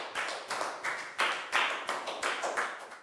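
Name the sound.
class applause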